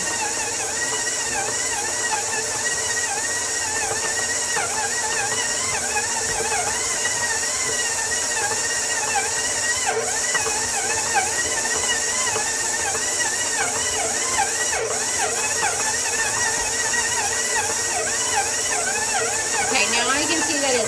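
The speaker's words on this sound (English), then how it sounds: "I'm going to let that mix together until it gets a nice dough consistency that doesn't stick to the side of the mixer" A stand mixer kneads sourdough dough with a steady whirring, buzzing motor hum that runs continuously throughout, fairly close and loud.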